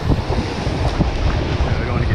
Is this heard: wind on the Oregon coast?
yes